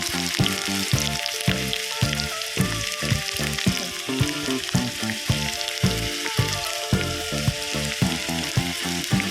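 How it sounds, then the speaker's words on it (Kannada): Garlic frying in hot oil for a bimbuli pickle, a continuous loud sizzle broken by rhythmic bursts of stirring or scraping in the pan, no talk. "ಬೆಳ್ಳುಳ್ಳಿ ಸ್ವಲ್ಪ ಹೊತ್ತು ಫ್ರೈ ಆಗಬೇಕು"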